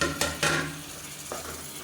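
Masala sautéing in oil in a pan, a close crackling sizzle punctuated by a few sharp stirring scrapes of the spoon, gradually settling, with no voices.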